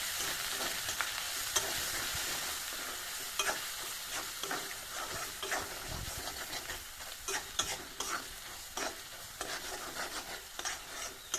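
Jackfruit curry, Bengali style, sautéed in a pan, giving a steady close sizzle under a run of scraping stirs and light clinks that continue throughout.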